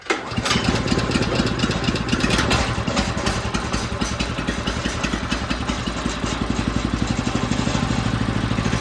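The engine of a Woodland Mills HM122 sawmill, started on choke in cold weather, runs at a fast, rough idle, a loud steady puttering with a quick regular pulse and some uneven revving near the start.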